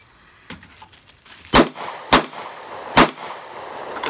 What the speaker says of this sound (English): Pressure shots.